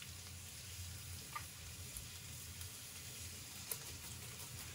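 Garlic is grated into a pan of rendered pepperoni fat, giving a soft, steady sizzle with a few faint clicks over the low background.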